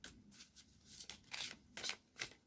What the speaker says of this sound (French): je crois que je vais devoir couper le jeu là et piocher